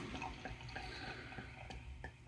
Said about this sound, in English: Let's get the pour on here.